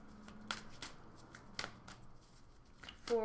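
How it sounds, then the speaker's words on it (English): Astrology tarot-style cards are shuffled and drawn by hand: a run of soft, quick riffling flicks and slaps, close and fairly quiet, ending in a brighter flutter of cards. "let's go ahead and pull a Numinous astrology card for the emotional energy of fire signs"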